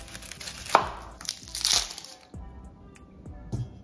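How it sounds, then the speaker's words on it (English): A knife cutting through a peeled onion on a cutting board, several sharp crunchy chops and a crackling slice, close and clear with no talking. "We just take an onion, peel it and cut it in half"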